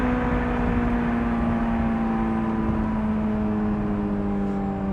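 A 2002 Honda S2000 engine held at high revs, a steady loud whining drone with strong tonal harmonics and a slight pitch drift, heard alone without talk.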